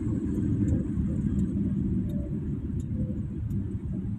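A car driven by a learner gives a steady, low engine and road rumble inside the cabin as it slows to pull over, with no voices.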